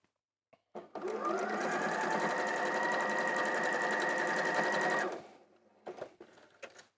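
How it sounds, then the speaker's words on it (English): A sewing machine stitches two fabric triangles into a half square triangle quilt block, running in one steady continuous burst for about four seconds before stopping, with faint clicks around it. "I'm sewing those 2 triangles together there."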